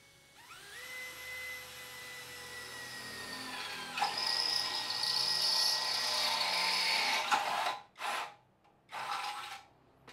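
A Dongcheng DCJZ2060i drill runs at speed 2 with no load, a steady high whine that rises in pitch as it spins up, then briefly cuts out and restarts twice near the end.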